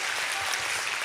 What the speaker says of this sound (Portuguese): Dê um aplauso ao Senhor, glorifique o nome dEle.